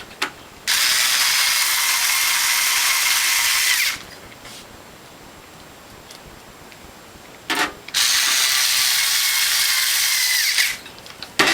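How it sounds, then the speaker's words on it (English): A clamp is ratcheted tight on a juicer's base plate to line up screw holes, giving two sustained bursts of close, loud mechanical clicking and grinding separated by a quiet pause. "I'll put a clamp on here to line up those screw holes."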